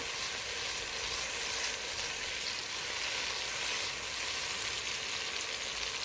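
Garlic paste sizzles with onions in a pan for vegetable pasta, a loud, continuous, even frying hiss close up with no pauses or voices.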